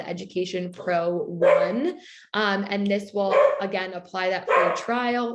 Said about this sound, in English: Sorry about my dog. It is dinner time for him.